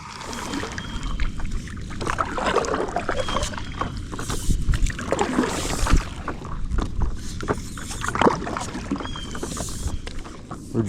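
A fishing paddleboard glides across open water, with steady splashing, paddle strokes and rushing water mixed with gusts of wind noise, close and moderately loud throughout.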